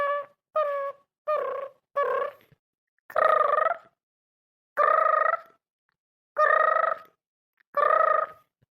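A telephone rings unanswered with a repeating electronic tone: four quick bursts, then four longer, evenly spaced rings with silent gaps between them. The ringing is clear and close, with no voices.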